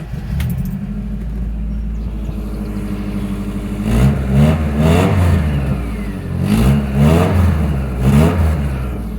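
A 1992 VW Westphalia camper van's engine runs at a steady idle, then revs up and back down in three swelling bursts, close and loud with no one talking.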